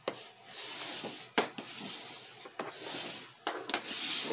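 Paper is burnished down onto a handmade coaster box with repeated close scraping rubs, broken by a few sharp scuffs and taps. No one speaks over the sound.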